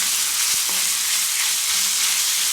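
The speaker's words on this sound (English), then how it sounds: "The butter tends to add a little bit of that brown color just by the nature of the butter itself as it sizzles." Pork sizzles in butter and oil in a hot pan, a loud, dense, steady frying hiss with a couple of faint knocks from a utensil.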